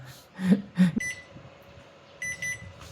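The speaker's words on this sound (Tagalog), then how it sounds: "Mag-beep yan." A SiniLink XY-SK120 buck-boost DC converter beeping, with two short bursts of high electronic tones among some nearby handling noises, quiet and close.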